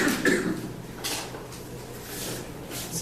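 A person coughs close by in a few sharp bursts, followed by quieter rustling and shuffling noises.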